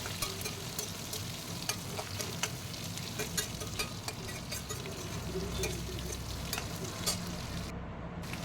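Two medium onions, sliced, fry and get stirred in a pan for poori masala, a steady crackling sizzle with scattered scraping stirs throughout and no talking.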